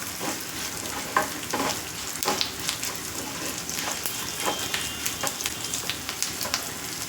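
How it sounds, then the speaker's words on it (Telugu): Food frying in a pan on a high flame while festival prasadam is prepared, a steady close crackling sizzle with scattered pops and occasional stirring scrapes throughout. "ఇది బాగా ఫ్రై అయిపోయిన తర్వాత ఒకసారి హై ఫ్లేమ్లో పెట్టి ఆఫ్ చేసేస్తానండి"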